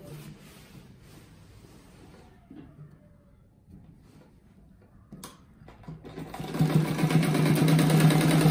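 Sewing machine stitching a fabric rug, starting with faint irregular running and rising into a loud, steady buzzing stitch run in the last couple of seconds.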